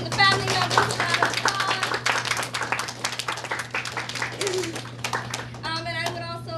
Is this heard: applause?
yes